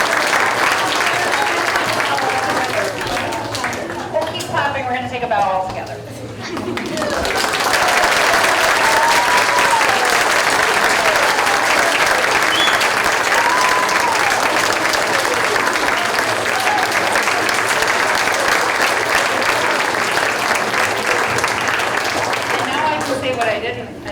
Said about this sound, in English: We'll keep clapping.